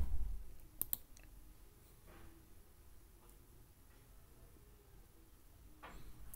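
A computer mouse gives two quick, sharp clicks in close succession near the start, then a quiet room with faint background hiss.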